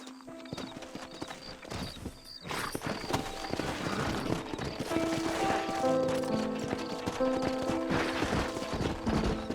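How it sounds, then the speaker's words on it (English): Horses gallop with steady, rapid clip-clop hoofbeats in the Western video game Red Dead Redemption, close and continuous, layered under game music and ambient noise. "Horses are over here!"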